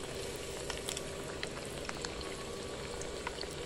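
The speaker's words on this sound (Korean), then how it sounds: "빵가루가 튀겨지기 전에 이리저리 만지면 빵가루가 다 떨어지기 때문에 어느 정도 튀겨질 때까지 가만히 놔둬주세요" Breaded pork cutlet fries in hot oil with a dense, steady bubbling sizzle and scattered crackling pops, close and continuous with no talk.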